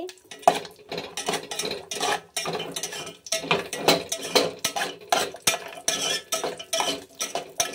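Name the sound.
frying cashews and dry fruits in a pan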